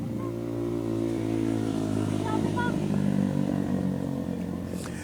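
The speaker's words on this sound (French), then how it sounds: "je laissais passer ce moteur au 100" A motor vehicle's engine drones steadily as it passes nearby, a low continuous rumble that holds for about five seconds.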